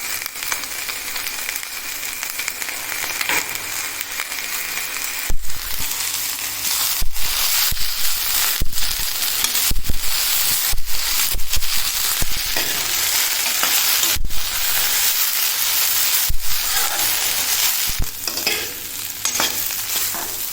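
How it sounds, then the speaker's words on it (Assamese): Potatoes and sour roselle leaves frying in a pan, a steady close sizzle with repeated sharp scrapes and clacks of a spatula stirring them throughout, no talking. "আলুখিনি সিজালৈকে এইখিনি মই এতিয়া ভাজি থাকিম।"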